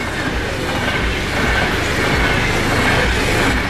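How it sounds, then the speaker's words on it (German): A train passes close by in a loud, continuous roar of wheels and rattling carriages, steady for several seconds with no voices. "Zug warten."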